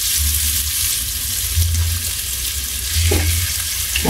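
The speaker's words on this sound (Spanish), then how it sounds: "A que chille el sartén." Seasoned fish fries in a hot pan with a loud, dense, continuous sizzle and crackle, joined by a low rumbling hum and a brief clatter near the end.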